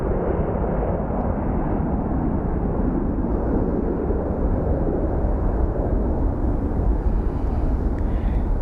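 An airplane touching down at Phoenix Sky Harbor airport, a continuous loud broadband jet roar that holds steady throughout without pauses or voices.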